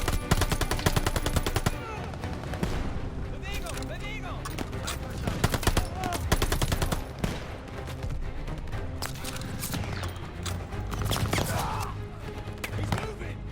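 Call of Duty: Vanguard campaign battle with rapid machine-gun bursts and single gunshots crackling constantly, loud and close, layered with explosions and shouted voices over the fighting.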